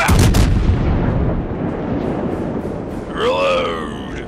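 Ship cannons fire in a naval battle, opening with a heavy booming blast that rolls into a long rumbling decay, followed by a voice shouting near the end.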